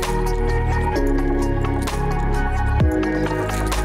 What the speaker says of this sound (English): So what I did is I dripped some isopropyl alcohol in there to really try to get it out as good as possible